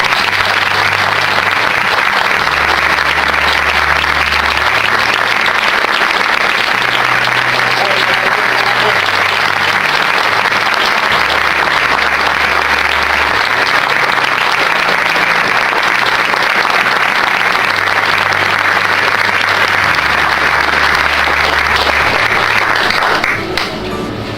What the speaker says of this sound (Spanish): Terminamos dándole gloria y honor con un aplauso bien fuerte al Señor.